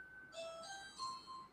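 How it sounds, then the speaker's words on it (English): An indoor doorbell sounds in a craft room: a soft multi-tone chime of a few ringing notes that overlap and decay, faint and somewhat distant, with no talking. "oh, that's the doorbell"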